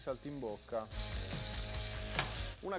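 Saltimbocca, veal wrapped in ham, sizzles steadily in a hot pan as the heat is raised to brown them golden, a continuous bright crackle with scattered pops. Brief speech occurs at the start and end.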